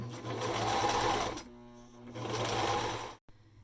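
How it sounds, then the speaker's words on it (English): A sewing machine stitches a seam on a gaiter scarf in two steady bursts with a short pause between, then stops abruptly and a faint clunk follows. "before I cut the thread from the sewing machine"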